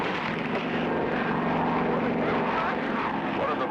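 A cartoon seaplane's propeller engine drones steadily and loudly throughout, a constant buzzing roar with no breaks.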